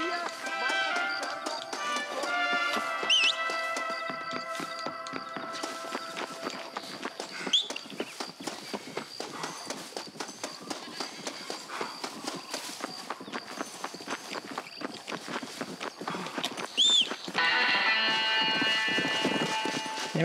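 A horse in the Red Dead Redemption video game gallops with a rapid, steady clip-clop of hooves on dirt, close and continuous, over a background game score and occasional ambient effects.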